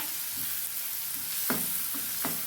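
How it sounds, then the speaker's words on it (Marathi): Onion frying in oil in a pan, a steady close sizzle broken by three scraping stirs of a spatula toward the end. "तो कांदा छान आपल्याला परतून घ्यायचा आहे छान हलवून घ्यायचा आहे"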